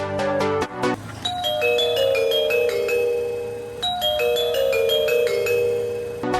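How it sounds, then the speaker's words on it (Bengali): A calling bell inside an Isuzu bus plays a loud, clear electronic chime melody. The tune starts again partway through and rings out alone without talk. "এর আগে এমন কোনো কলিং বেল দেখিনি"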